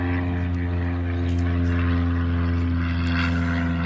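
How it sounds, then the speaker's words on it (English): A small propeller airplane drones steadily overhead, its engine hum continuous and fairly loud, swelling slightly through the middle as it passes. "there's a little airplane flying over me"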